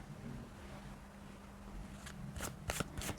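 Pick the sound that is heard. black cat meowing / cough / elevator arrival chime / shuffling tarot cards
shuffling tarot cards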